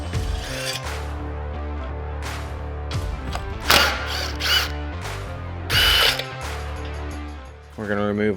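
A power tool spins out hardware from the underside of the front bumper on a Can-Am Maverick X3, producing loud whirring bursts over steady background music, with someone talking at times.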